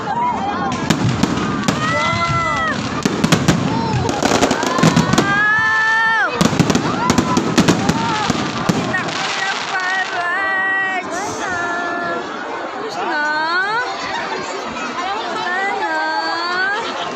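Rapid bursts of fireworks crackle and pop for several seconds near a Ferris wheel and shopping mall, then give way to a lively crowd chattering and calling out nearby.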